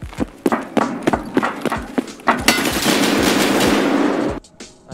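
Gunfire in Escape From Tarkov, a string of sharp separate shots followed by a sustained noisy rush, loud and close, ending in a few more cracks.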